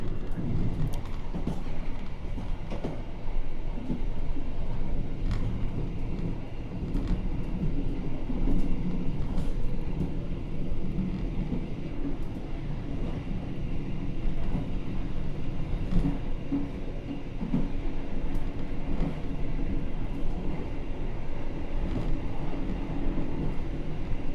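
The Argo Bromo Anggrek express train runs at high speed from Jakarta toward Surabaya, heard from inside as a constant loud rumble and roar with faint rail clicks throughout.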